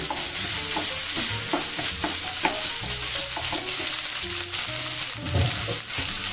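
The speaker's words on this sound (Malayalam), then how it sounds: "നമ്മൾ നേരത്തെ കട്ട് ചെയ്ത് വെച്ച ബീഫ് ഉണ്ട് അത് ഇതിലോട്ടൊന്ന് മിക്സ് ചെയ്ത് കൊടുക്കുന്നത്" Cooked beef being stirred into a cutlet mixture in a pan, with steady sizzling and frying under repeated scraping and stirring strokes, close and continuous, with no voices.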